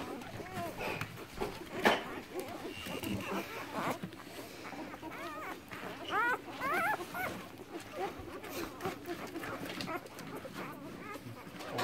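Golden retriever puppies whimper and yip in high, wavering cries, several overlapping close by, with some soft background noise.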